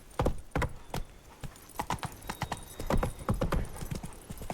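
Hooves of Roach, a horse in The Witcher 3, clop in a quick uneven gallop rhythm on the ground, fairly close and moderately loud, with no voices over them.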